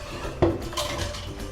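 Rice flour batter being mixed in a vessel: a single sharp clank of a utensil against the pot, followed by soft scraping and stirring, close and fairly quiet.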